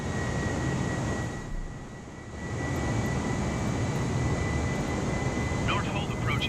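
Airbus A320 engines in Flight Simulator 2020 hum as a steady, even roar with a faint high whine, dipping briefly in the middle before holding constant, while radio-style talk is heard.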